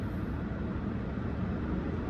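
Steady broadband hum of a car's air conditioning blowing inside a parked car, a constant low rushing drone with no breaks, moderately close and alone.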